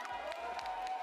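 An esports tournament crowd cheering and clapping in a large arena, a faint distant roar with a few rhythmic low thumps underneath, heard at low level.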